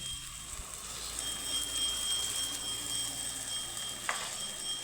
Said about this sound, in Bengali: এখন আমি দিয়ে দিব পোস্ত আর কাঁচা লঙ্কা বাটা